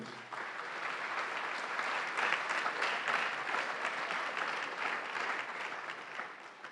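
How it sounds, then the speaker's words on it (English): Steady, full-bodied applause from a luncheon crowd at a chamber of commerce awards event, honoring the board of directors, a continuous wash of many hands clapping from start to finish with no talk over it. "A big round of applause for the people that helped to make this happen, please."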